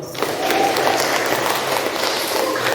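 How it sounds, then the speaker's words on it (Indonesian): A classroom of students applauds group 2 after their presentation, a steady burst of clapping that stays even throughout the clip. "Kita kasih aplaus sekali lagi untuk kelompok 2."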